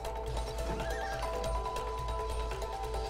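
A horse neighs in the video game It Takes Two, a fairly quiet whinny over a steady bed of background game tones.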